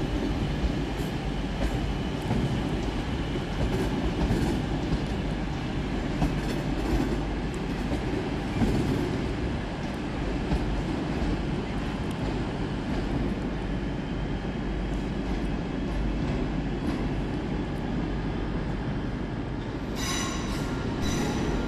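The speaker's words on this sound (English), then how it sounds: "Taking us by surprise on departure is 323208, working the 1155 West Midlands Railway service from Bromsgrove to Lichfield" West Midlands Railway train 323208 departs Birmingham New Street station, a continuous rumble of wheels and carriages rolling steadily through the platform with faint squeals and a few clicks near the end.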